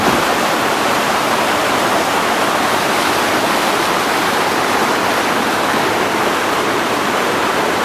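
Loud, continuous roar of rushing water at Fiery Gizzard, a dense unbroken wash of noise heard from very close.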